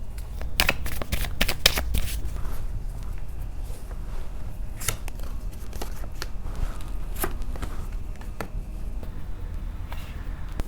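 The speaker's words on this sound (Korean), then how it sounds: "여기서 좀 보조 카드를 뽑아볼게요" Tarot cards shuffled and drawn in a steady run of crisp riffling bursts and flicks, fairly close and continuous, with no talk over them.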